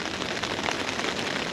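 Heavy rain pours down on a flood-soaked coastal wilderness camp, a dense, even hiss of drops drumming on surfaces with no break and no voices.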